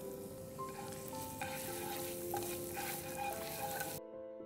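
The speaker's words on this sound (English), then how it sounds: "Once the oil is slightly hot, we're going to add garlic to it" Chopped garlic sizzles and crackles in hot oil in a pan, a dense, steady fry with occasional stirring scrapes, close up and alone before cutting off abruptly.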